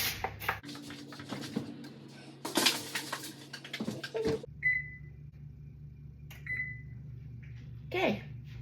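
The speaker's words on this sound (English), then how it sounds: "So I'm going to put it in the oven." Onion crusted salmon going into an oven, with clattering of the pan and oven door, a short metallic clunk, then a quiet hum broken by a few short beeps, close and without speech.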